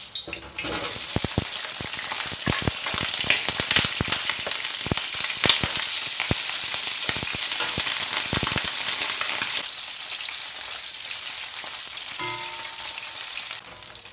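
Salmon balls fry in hot cooking oil with a loud, dense, continuous sizzle and crackle, sharp pops scattered through the first several seconds before the frying settles into a slightly softer steady hiss.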